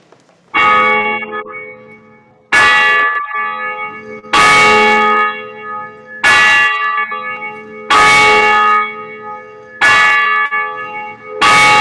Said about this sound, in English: Our bell tower.